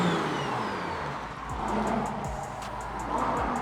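A built N54 BMW 335i accelerates with the windows down, its engine a steady, loud, close rumble with a faint rising whine over nearly four seconds. No one speaks.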